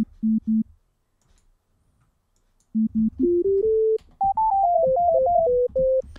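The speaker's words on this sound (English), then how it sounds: "Now let's do it really quick with a sine wave" Pure electronic sine tones beep in short steps, first two low pulses, then a rising and falling sequence of clean pitched notes.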